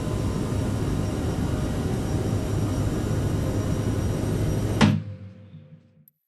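Twin jet engines of a CRJ-700 airliner at full TOGA takeoff power in Microsoft Flight Simulator, a loud sustained roar with a high whine, cut off abruptly near the end and trailing into a short fading rumble.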